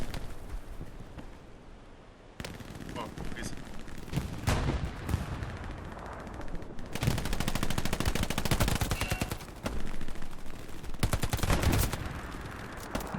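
Machine gun bursts in the World War II shooter Hell Let Loose, loud rapid volleys chattering in repeated stretches with sharp gunshot cracks and battlefield din throughout.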